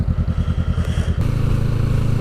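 A motorcycle engine runs close by, chugging in a fast, regular pulse before shifting to a steadier, smoother drone, loud throughout with no talking.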